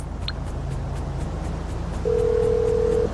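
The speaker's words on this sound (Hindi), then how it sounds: "लेस्टर को फ़ोन करता हूँ कि भैया आ जा" An in-game phone call in GTA 5 rings out as a steady, fairly loud electronic tone lasting about a second near the end, over a low rumbling game background.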